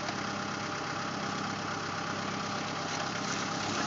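Tractor engine running at low revs while its PTO drives a post hole digger auger being lowered, a steady close mechanical drone with a faint rhythmic knock, continuous and alone.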